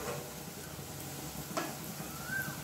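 Chicken biryani masala with yogurt and lemon sizzles steadily in a hot pan while being stirred, a continuous close frying hiss with faint scraping and no talk.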